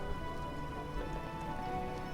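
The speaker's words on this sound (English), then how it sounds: "It could stop raining." Rain falling in The Witcher: Enhanced Edition, a steady soft patter on surfaces, fairly faint and continuous over a brief stretch with no one talking.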